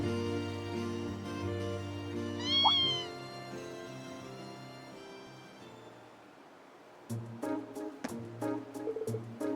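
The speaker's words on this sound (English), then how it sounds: "What's the kitten doing here?" A kitten meows in the video game Trails of Cold Steel 2, a short rising cry over soft background music, followed by sharp clicky game sounds later on.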